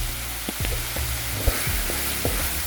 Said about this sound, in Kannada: ಈಗ ಟಮಾಟಿ ಹಾಕೋತೀವಿ